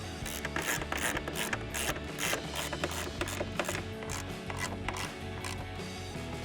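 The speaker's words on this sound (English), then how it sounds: "we'll tighten it down using our 10mm socket" Ratchet wrench with a 10mm socket tightening a nut on a 2015-2023 Ford Mustang S550 tail light, a steady close run of fast metallic clicks and rubbing with no pauses.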